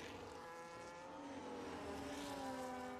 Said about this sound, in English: That engine is annoying to me.